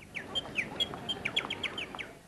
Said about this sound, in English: the fountain's been attracting bird life to the mall.